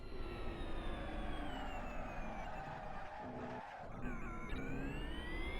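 A video game Nio EP9 electric race car motor gives a continuous high-pitched whine with shifting tones and warbling artifacts, steady and loud, briefly dipping before rising again, sounding even when stopped.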